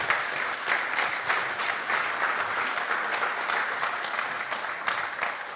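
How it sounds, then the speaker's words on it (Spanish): Sustained applause from a church congregation during a sermon, a dense steady wash of many hands clapping together without pause, fairly loud and close. "dale un aplauso al Rey"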